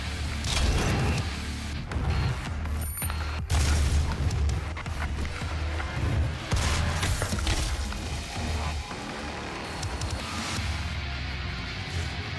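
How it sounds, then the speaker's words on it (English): Shotgun blasts in DOOM 2016: repeated heavy booming shots and crashing impacts over a loud, dense battle soundscape, with several sharp percussive hits spread across the stretch. "Shotgun."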